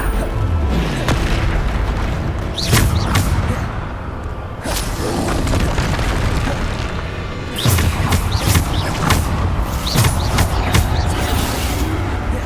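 Bombarda explosion spell cast in Hogwarts Legacy, a Harry Potter video game: repeated loud booming blasts with whooshes and thuds over a dense, continuous game soundscape of combat effects.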